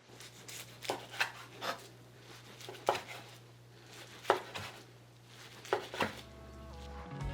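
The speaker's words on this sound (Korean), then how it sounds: "한번 썰어 보겠습니다" A knife slices through a rolled kimbap on a board in a series of crisp chopping strokes, about a dozen firm cuts at an uneven pace, close and clear with no talking.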